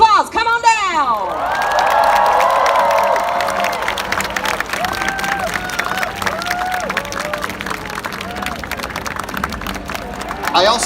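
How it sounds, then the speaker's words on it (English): A crowd at a Singapore red carpet fan event for Avengers: Infinity War claps and cheers for a group of kids, with high screams and whoops rising above steady applause throughout. "Ladies and gentlemen, give these kids a round of applause."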